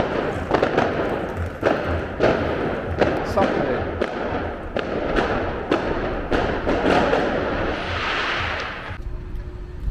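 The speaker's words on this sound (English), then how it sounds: "I think it's fireworks." Fireworks go off in the port area of Palermo, Sicily, a run of repeated thumps and bangs at uneven intervals, some distance off, with a person talking briefly over them.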